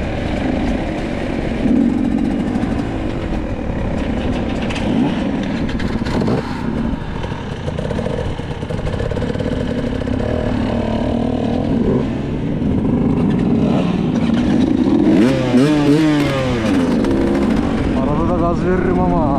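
An enduro motorcycle engine revs and drones continuously while being ridden on a muddy road, loud and close, with the pitch rising and falling as the throttle changes and someone talking over it at times.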